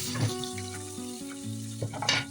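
Onion sautéing in hot oil in a wok with mustard seeds, cumin and asafoetida, making potato bhaji: a steady close sizzle under faint tonal hum, with a stirring scrape and a brighter hiss burst near the end.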